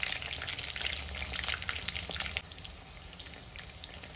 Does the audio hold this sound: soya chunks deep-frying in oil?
yes